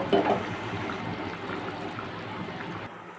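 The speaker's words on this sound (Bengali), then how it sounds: "এবার একটু ভালো করে মিশিয়ে নিয়ে কিছুক্ষণের জন্য ফুটিয়ে নেব" Tangra fish curry with fried fish roe simmering in a pan, giving a soft, steady bubbling with no talk over it.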